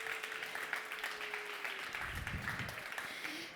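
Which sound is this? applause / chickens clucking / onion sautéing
applause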